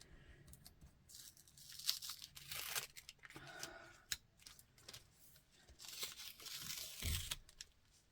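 A stencil is slowly peeled up from wet spackle, giving close, quiet bursts of sticky tearing and crinkling plastic in uneven stretches, with brief pauses and light handling noise between pulls.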